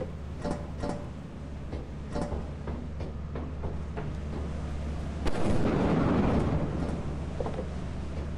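Lightning strikes during a storm in Lethal Company, a run of sharp cracking bursts followed by a heavy crash and rolling rumble, loud and close over a steady low background drone.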